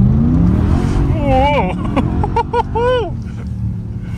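A BMW engine running in second gear at about 2000 rpm gives a low, steady drone from inside the car, with people talking over it throughout.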